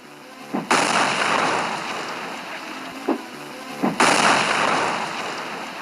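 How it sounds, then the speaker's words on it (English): Cherry bomb explosions in a video game: two loud, sudden blasts, each with a long rumbling decay, separated by a few seconds and preceded by small pops, with no talking. "Those cherries I got are not just cherries, they're cherry bombs."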